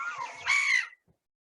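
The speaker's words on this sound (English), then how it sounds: "Right, calls really quickly. Black-headed gull." A black-headed gull gives a single harsh, squawky call, close and fairly loud, that ends abruptly in silence.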